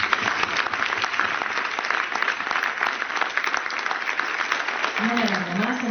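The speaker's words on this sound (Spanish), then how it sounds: "voy a empezar por daros un aplauso para todos vosotros y vosotras" An audience at a film screening and discussion applauds, steady dense clapping throughout, with a voice starting to speak over it near the end.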